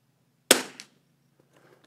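One sharp, close gunshot in a fish-in-a-barrel shooting game, followed by a quieter second crack and then near silence with faint small clicks.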